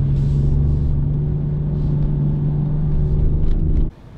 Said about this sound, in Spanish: vamos a salir a manejar un poco aquí en lo que BMW llama el superdeportivo del futuro hoy